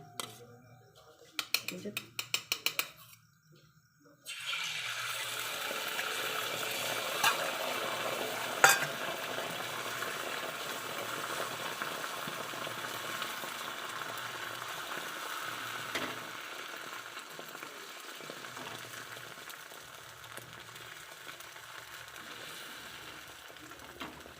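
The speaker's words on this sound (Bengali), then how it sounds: "দেখো আমি ডিমটা ফাটিয়েছি একটু লবণ দিয়ে নিয়েছি এবার আমি চাটুতে দিয়ে দেবো এটা" Egg frying on a flat tawa over a low gas flame: a steady soft sizzle starts after a few clicks and handling noises, then carries on at an even level with occasional small crackles.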